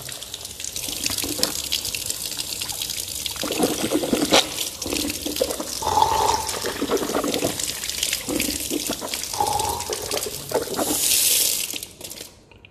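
Tap water runs steadily into a sink while someone rinses their mouth during wudu, a continuous splashing flow with small gurgles and shifts in pitch, close and alone, cutting off near the end.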